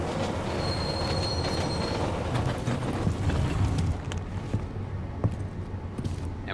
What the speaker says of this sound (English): And we're going to jump on the train.